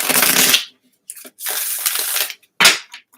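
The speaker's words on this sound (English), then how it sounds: "I just want to shuffle 3 times" Tarot cards are shuffled by hand in three quick riffling bursts separated by short pauses, close and crisp, with a sharp card snap near the end.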